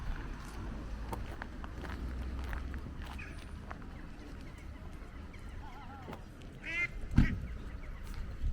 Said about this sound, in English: Couple of Egyptian geese there.